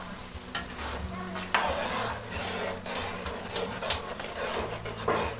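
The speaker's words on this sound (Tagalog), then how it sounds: "Haluin ko na." Spaghetti sauce stirred in a pan, with close, repeated scraping and sloshing strokes over a steady low sizzle, a few sharper clinks of the utensil against the pan.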